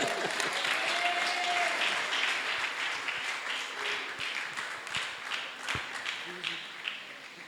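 Sustained applause from a church congregation, dense clapping that gradually thins and softens toward the end.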